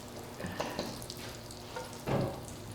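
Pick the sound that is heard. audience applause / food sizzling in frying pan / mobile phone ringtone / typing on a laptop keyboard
food sizzling in frying pan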